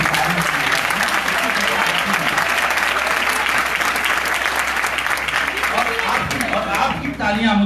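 Sustained applause from an audience at a Hindi poetry gathering (kavi sammelan) in Sonipat, loud dense clapping filling the whole stretch with crowd noise and no pause.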